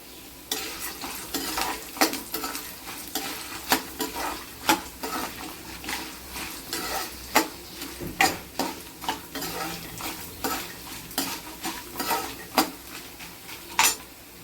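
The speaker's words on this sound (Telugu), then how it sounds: "ఇలా చిన్న చిన్న అల్లం ముక్కలు వేసుకుంటే చాలా బాగుంటుంది కొన్ని జీడిపప్పులు వేసుకుందాము" Small ginger pieces and cashews frying in oil in a pan for raw mango pulihora, with steady sizzling and repeated sharp clinks of a spoon stirring against the pan throughout.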